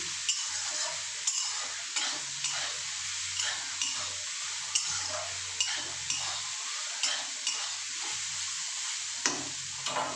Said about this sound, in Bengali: দেখুন সোয়াবিনগুলো আমি একটু নেড়ে নিয়েছি